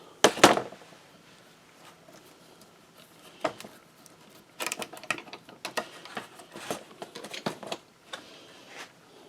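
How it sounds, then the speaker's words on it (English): Clamps coming off a freshly glued resonator guitar body, heard as scattered clicks and knocks of metal and wood, with a sharp burst near the start and a busier run of handling clatter toward the end. "Now it's time to remove the clamps."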